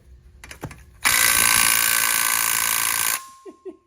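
A Snap-on cordless ratchet loosens a 10 mm bolt during car repair, a loud steady mechanical whirring burst of about two seconds after a few clicks, then stopping abruptly with faint knocks afterward.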